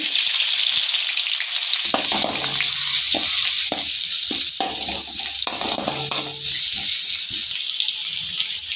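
Chopped onions hit hot oil in a wide pan and fry with a loud, steady, close sizzle, broken by a few stirring clatters of a utensil against the metal.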